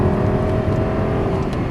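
A Lamborghini engine drives hard out of a corner on a race track, a steady, loud, dense roar with a sustained tonal whine running through it under continuous wind and road noise.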